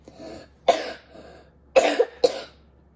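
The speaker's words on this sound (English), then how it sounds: "I'm like coughing every 5 minutes." Four separate coughs from a person, sharp and close, with short pauses between them in a quiet room.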